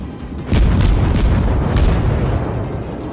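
Naval guns firing in the World of Warships naval battle game, several heavy booms around a half-second apart, then a loud rumbling roar that carries on underneath.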